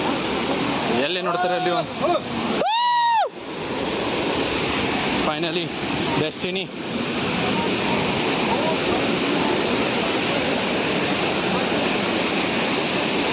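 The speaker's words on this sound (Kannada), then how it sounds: "ಬಂದ್ವಿ ಜಲಪಾತಕ್ಕೆ ಹಂಗೆ ಹಿಂಗೆ ಮಾಡಿ" The Sada and Chikhale waterfall roars as a loud, steady broadband wash of falling water close by, continuous throughout, while people talk briefly over it near the start.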